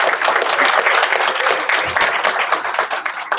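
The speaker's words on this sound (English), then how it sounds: "So let's give them a big round of applause." An audience gives a steady, dense round of applause at a university foundation kickoff event, loud and continuous throughout with no break.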